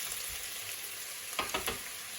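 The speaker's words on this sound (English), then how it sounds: "I'm just going to give it a little stir. Let it cook for a couple of minutes before we add in our seasoning" Glass noodles with mushrooms sizzle steadily in a hot stir-fry pan, with a few brief scraping stirs near the end and no talking.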